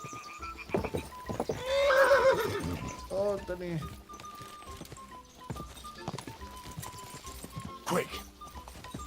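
A horse in Kingdom Come Deliverance 2 whinnies loudly while hooves clip-clop steadily beneath it, and someone talks over the sounds throughout.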